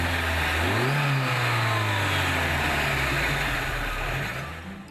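Lada Niva with a 1.7-liter gasoline engine accelerating hard, a loud, close engine roar that rises in pitch through a gear, holds steady, then fades slightly at the end with no talk.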